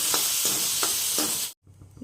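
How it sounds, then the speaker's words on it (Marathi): Four rhythmic scraping strokes of a spoon stirring spiced tomatoes in a hot frying pan over a steady sizzle, then a brief silence and the sizzling resumes. "आता हे मिक्स करायचे."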